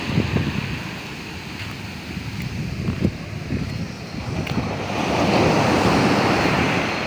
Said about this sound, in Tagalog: laki ng alon eh